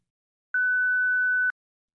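Answering machine beep before leaving a message: a single clean electronic tone held for about a second, alone in silence.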